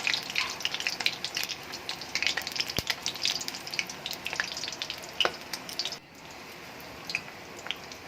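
Fish and lentil balls fry in hot oil, giving busy, irregular crackling and popping with wet squishy bursts. The sound eases to a softer, steadier sizzle for the last couple of seconds.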